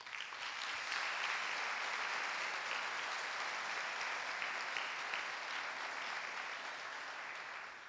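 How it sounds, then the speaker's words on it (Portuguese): Sustained applause from an audience fills the whole stretch, steady and dense, tapering slightly at the end. "E por que não aplaude?"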